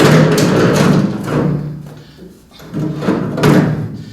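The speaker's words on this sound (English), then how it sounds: "Now this is the chip drawer, and you can see the whey oil starting to accumulate in the chip drawer." Chip drawer of a Syil X7 CNC milling machine, holding accumulated way oil, being slid open and shut, with loud close metallic scrapes and thuds in two separate pushes.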